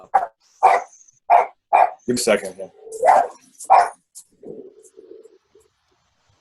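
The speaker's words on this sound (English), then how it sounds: "That's my dog in the background." A Havanese dog kept as a house guard dog barks in short sharp bursts from the background, several yaps spaced through the scene while someone talks over them nearby.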